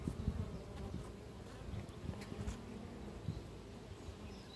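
Honey bees buzzing around an open hive in July, returning with pollen, a dense close hum of many insects with individual passes flickering in and out, steady throughout.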